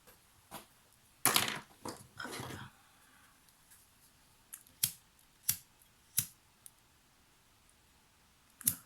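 Small scissors snip through ribbon several times in quiet surroundings, a brief cluster of cuts followed by sparse, sharp individual snips.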